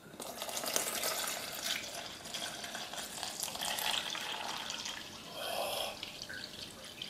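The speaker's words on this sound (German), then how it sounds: "Und dann gieß noch mal ein." Beer poured into an inflatable plastic beer mug, a continuous close fizzing, splashing pour with foam crackle throughout and no talking.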